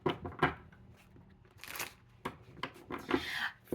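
Tarot cards being shuffled by hand in short bursts of crisp riffling and slapping, close and fairly quiet, with brief pauses between the shuffles.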